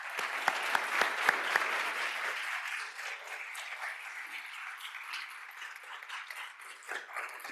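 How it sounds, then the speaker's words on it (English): Audience applause for three guests at an architecture talk, with a few sharp close claps at first, then a steady wash of clapping that slowly thins. "let's give a warm round of applause for these 3 guests"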